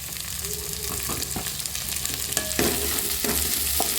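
Tomatoes fry in a pan for black urad dal chutney, giving a continuous sizzle broken by soft scraping and tapping as they are stirred.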